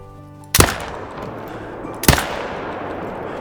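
Two loud rifle shots ring out about a second and a half apart while hunting a tahr in the video game Call of the Wild, each a sharp crack with a rolling tail that fades over a quiet outdoor ambience.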